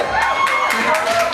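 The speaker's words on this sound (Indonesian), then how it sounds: "Tepuk tangan untuk Soleh." A stand-up comedy audience cheers and whoops for the comedian Soleh as he takes the stage, a loud, close burst of crowd noise and shouts throughout.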